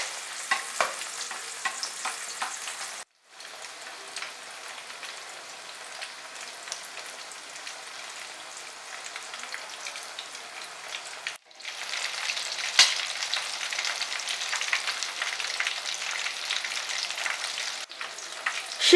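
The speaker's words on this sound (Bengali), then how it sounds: "মিডিয়াম আঁচে আমরা প্রন কাটলেটগুলো ফ্রাই করব" Prawn cutlets fry over medium heat in a pan, giving a steady, fairly loud sizzle and crackle that briefly cuts out twice, with no voices.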